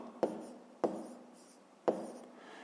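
A pen writes numbers by hand for a fifth-grade subtraction problem, giving three sharp taps spaced apart, each followed by a short soft scratching trail, close and quiet.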